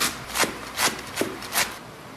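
A knife chops washed spinach on a wooden board with four evenly spaced, crisp strokes, close up and with no talking.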